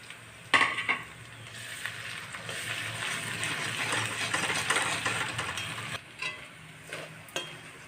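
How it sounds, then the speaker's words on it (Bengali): Ginger garlic paste and garlic fry with onions in a pot for a mutton dish. A loud hissing sizzle runs throughout, with metal spoon scrapes and clanks against the pan at the start and near the end. No voices are heard. "আদা রসুন ভাজি, আদা পেস্টটা দিয়ে দিলাম,"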